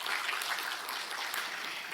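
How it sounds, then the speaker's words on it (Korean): An audience claps at a technology symposium after a video greeting from a provincial governor: a soft, steady, fairly distant patter of many hands that stays even throughout. "김동연 도지사님께 큰 박수 부탁드립니다"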